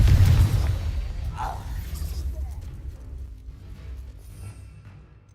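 The Confringo fire spell in Hogwarts Legacy goes off as a heavy, close explosive boom at the start, then trails into a rumbling fade with faint magical whooshes.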